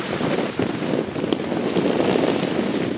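Sailboat near Tahiti moving at about 4.5 knots under jib alone, a steady rush of wind across the microphone and water washing along the hull, with no voices.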